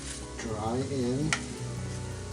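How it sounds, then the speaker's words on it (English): Seasoned ground beef for taco lasagna sizzles in a pan as it is stirred and scraped, a continuous frying hiss with a sharp knock of the utensil, while a voice talks over it. "We want to mix this really good. Getting the seasoning all throughout the burger."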